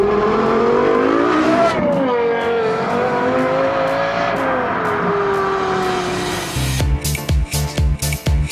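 Sports cars, including a Lexus LFA, run hard along the winding Road of 100 Bends in the Sudetes mountains: a loud, sustained engine note rises and falls through the bends, then ends in a string of sharp revs and gear changes.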